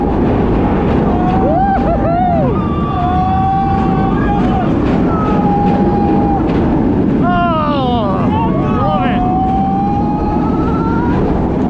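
A roller coaster at PortAventura World plunges down its first drop into a large loop, a loud, unbroken roar of wind and track rumble with riders' whooping screams rising and falling over it.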